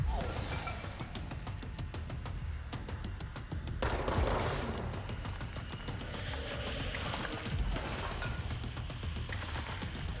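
Rapid gunfire in the video game Control crackles in dense, continuous bursts with a sharper impact near the middle, moderately loud against a busy background throughout.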